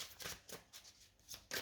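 Tarot cards are shuffled close by in several quick riffling bursts, soft papery flutters separated by brief gaps, with no voice over them.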